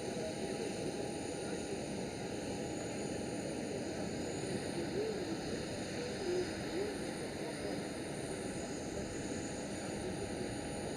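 Steady aircraft noise at Amsterdam Schiphol airport, a continuous broad engine roar with whining tones, likely a plane near the gate or taxiing, constant and moderately loud throughout without pauses.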